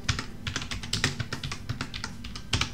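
Rapid typing on a computer keyboard while entering a name in After Effects, a close, steady flurry of crisp key clicks with a few louder taps, alone without talk.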